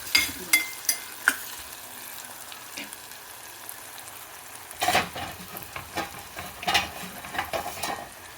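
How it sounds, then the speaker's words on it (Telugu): Tomato pieces frying in a pan for a Hari moong curry, with a soft continuous sizzle broken by several sharp scraping stir strokes, close and clear, no talk. "బాగా వేయాలండి. టమాటా ముక్కలు మెత్తబడాలి."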